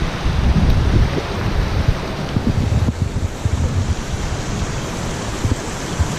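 Water rushing steadily through the stone canals of the Segovia Mint, a continuous broadband roar with low churning turbulence, loud and close throughout with no voices.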